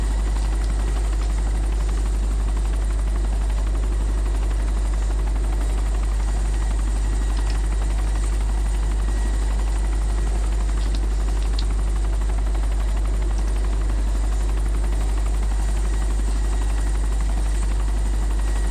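A helicopter in the video game DayZ Epoch drones steadily and loudly with constant rotor buzz throughout, alone without talk.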